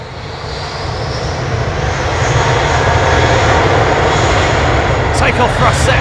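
A jet airliner powers up for takeoff at London Heathrow Airport, its engine roar building steadily from a distance into a loud, sustained rush, with voices talking over it.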